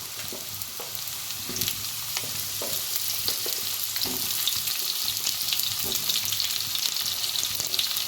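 Mixed winter vegetables, including pumpkin and lightly fried potatoes, sizzle and crackle in hot oil in a pan, with occasional stirring knocks over a dense, steady hiss that grows slightly louder.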